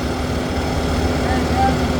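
A farm tractor engine is throttled up during maintenance, a steady loud diesel drone with a constant low hum that swells slightly toward the end, running alone without talk.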